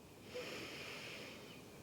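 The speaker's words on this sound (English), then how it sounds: "take the breath in and out of the nose, building our deep Ujjayi breathing" Deep Ujjayi breath drawn slowly through the nose in a beginner yoga flow, a soft, steady, slightly wheezy rush of air that holds evenly for the whole moment with no talking.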